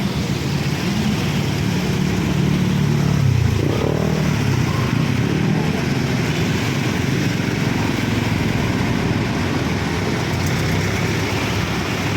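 Motorcycles ride through flood water on a submerged street in Balagtas, Bulacan, during Typhoon Crising, a loud, continuous close engine drone with rushing water noise, steady throughout and no talk.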